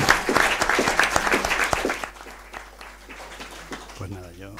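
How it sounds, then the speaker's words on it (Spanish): An audience claps loudly for a few seconds at the close of a Spanish-language lecture, the dense applause then thinning into scattered claps as it fades out. "Bueno, un aplauso, ¿no?, para terminar"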